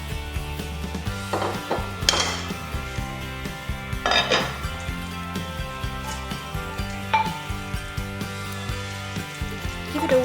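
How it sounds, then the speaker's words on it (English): Meat and its juices go from a pan into a slow cooker dish for Flemish stew, with clanks and scrapes of metal utensils against cookware. The knocks are close and irregular, and there is a faint musical background. "transfer the meat to your slow cooker dish with the onions. Don't forget to include all the juices."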